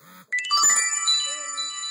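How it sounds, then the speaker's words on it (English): A mobile phone ringing nearby with a bright electronic ringtone, chiming tones layered over one another that ring out and then sustain and fade, with no voices. "that was my phone again"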